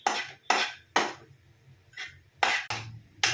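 A spoon scrapes and clanks in a pan as egg masala is stirred, about seven sharp metallic strikes at an uneven rhythm, close and fairly loud against a quiet background.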